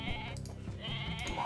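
Bleating goat in the video game Age of Mythology, one sustained quavering cry lasting about a second and a half, heard over constant game background.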